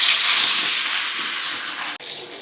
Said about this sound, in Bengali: এই যে লো আঁচে ভাজতে হবে, যাতে ভিতরে মাছটা সুন্দর মতো ভাজা হয়